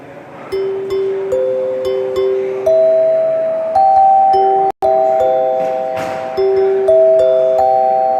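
Sustained, ringing chime tones from J. Deagan chimes struck one after another in a slow melodic sequence, each note lingering and overlapping, loud and close.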